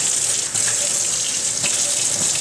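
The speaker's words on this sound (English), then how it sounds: "I wash the jars just like this with a mild soap." Tap water running steadily into a kitchen sink while canning jars are washed by hand with mild soap, a close continuous splashing hiss with faint clinks and shifts.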